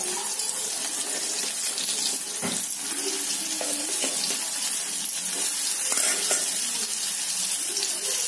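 Raw banana slices fry in hot oil with curry leaves, giving a steady, dense sizzle throughout, close and even, with faint clinks of utensils now and then.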